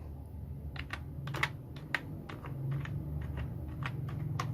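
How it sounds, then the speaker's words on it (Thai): Fingers type a command on a computer keyboard, a close, quick run of light key clicks with a faint steady hum underneath. "พิมพ์ใส่ว่า IP config"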